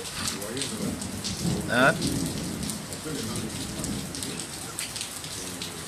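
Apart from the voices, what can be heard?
heavy rain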